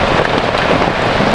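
Dense, steady rain pours down, a loud even hiss of drops hitting surfaces with no pauses.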